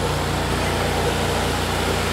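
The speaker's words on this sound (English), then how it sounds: "The noise you hear are our 2 generators on our truck." Two generators running on a truck to power dental equipment, a steady close mechanical drone with a rhythmic low-pitched pulse throughout.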